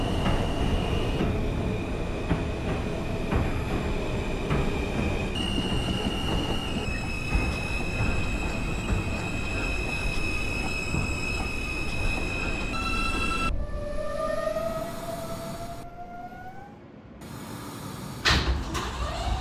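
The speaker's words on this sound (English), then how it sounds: "This is a Bay Parkway bound M train." A simulated R160 subway train on the M line toward Bay Parkway runs along with a heavy rumble, a rising and falling motor whine, and squealing wheels, all loud and close.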